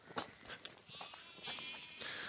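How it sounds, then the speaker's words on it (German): Sheep bleating across a Portuguese pasture grazed among cork oak woodland, several drawn-out calls overlapping at moderate distance, with no talking. "Alles voll Schafen ist hier."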